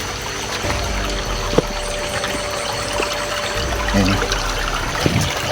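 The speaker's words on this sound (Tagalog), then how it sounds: "nasa gilid tayo ng sapa ngayon" Creek water flows steadily beside a forest path, a continuous broadband wash with faint trickling. Someone speaks briefly near the end, and a few soft knocks and rustles sit on top of the stream.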